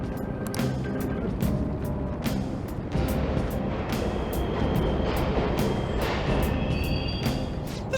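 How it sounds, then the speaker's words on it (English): In the video game Persona 5 Royal, subway trains run with a loud, continuous rumble. Metallic clanks and squeals recur throughout, with no speech. "The trains are totally running!"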